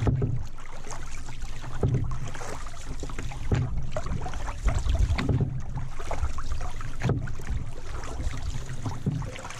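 A canoe is paddled on a lake in the boreal forest of northwestern Ontario, with rhythmic paddle strokes and water swishes repeating every second or two over a steady wash of wind and water.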